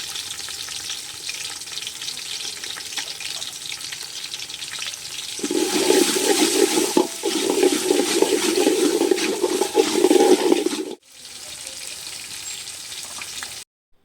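Shallots, chilies and crushed garlic fry in oil over a wood-fired stove outdoors. The steady sizzle hisses on its own and swells louder and busier midway, then drops abruptly and resumes more quietly.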